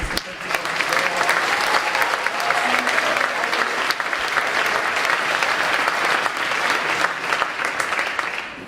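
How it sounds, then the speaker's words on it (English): An audience at a high school baccalaureate ceremony applauds, a loud, dense, sustained clapping from a large crowd that holds steady for several seconds without a break. "How about another round of applause for Sean Flynn, Abby Sloper, Miss O'Day, and the assistant principal."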